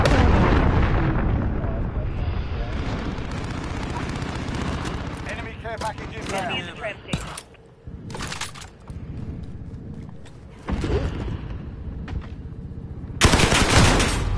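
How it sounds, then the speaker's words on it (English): Heavy game gunfire and artillery-like blasts from a Call of Duty match on PS5, with a cruise missile strike. The explosions and shooting are loud and nearly continuous, with bursts and short lulls and a big blast near the end. Talk runs underneath. "Enemy cruise missile incoming."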